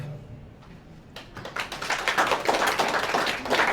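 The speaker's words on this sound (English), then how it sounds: "You just clapped, but you didn't ask me, why should we clap for ourselves?" An audience claps together, starting faintly and swelling into dense, sustained applause that fills the room from about the midpoint onward.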